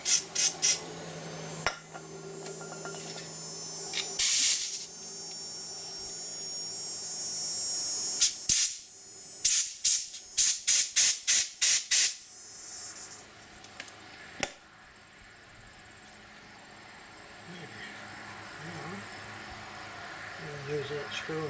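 Short hissing squirts of spray into a Briggs & Stratton engine on a power trowel, heard as brief bursts among clicks and workshop handling noise, with people talking nearby.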